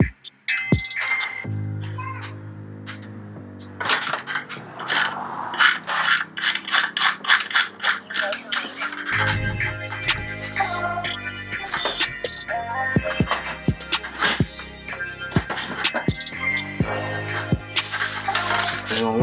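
A ratchet loosens an 11 mm bolt on an air intake, with rapid clicking pawl bursts repeated in close succession alongside metallic handling clinks and tool knocks, loud and near throughout.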